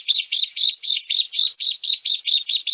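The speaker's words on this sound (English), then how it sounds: "they do this wonderful display flight with their wings sort of above them, and make this lovely trilling noise" A bird trills continuously during its display flight over open country in Finland or Norway. The song is a loud, close, rapid and steady warbling with nothing else audible.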